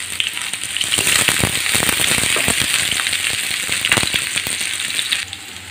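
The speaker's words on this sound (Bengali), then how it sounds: "পেঁয়াজগুলো 1 মিনিট ভেজে নিলাম।" Chopped onion and green chillies fry in mustard oil, a loud close sizzle with crackles and the scrape of stirring, easing off at the end.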